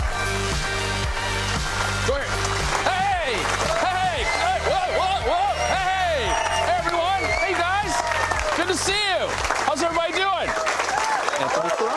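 An audience at a live golf show claps steadily throughout, a dense wash of applause heard under voices and rising, gliding tones.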